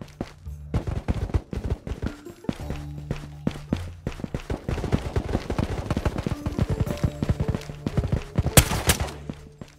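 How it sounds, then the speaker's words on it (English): Rapid gunfire in the video game Ghost of Tabor, with dense bursts of sharp shots and clattering impacts through the whole stretch, some close and loud, others farther off, plus a bright crackling spike near the end. "That guy is shooting."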